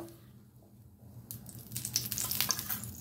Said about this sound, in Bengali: আমি আরো একটা পরোটা দিয়ে দিয়েছি এইভাবে ডিমের ব্যাটারের মধ্যে ডুবিয়ে।